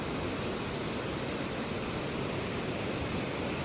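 The Kalu waterfall in Maharashtra, its spray blown upward by strong wind into a reverse waterfall, gives a constant loud broadband roar of rushing water and wind with no breaks.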